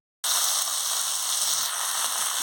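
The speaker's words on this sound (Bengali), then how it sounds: "দিয়ে ভালো করে ভেজে নিচ্ছি" Ginger, dry red chilli, turmeric and panch phoron spices fry in hot oil, a dense, steady sizzle that starts abruptly and holds at a loud, even level with no talking.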